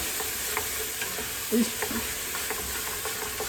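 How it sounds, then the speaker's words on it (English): Vegetables stirred around in a generous amount of melted butter over high heat, a steady close sizzle and frying hiss with soft scraping knocks from the stirring, no talk. "over high heat, I'm gonna stir that around and get everything coated with the butter"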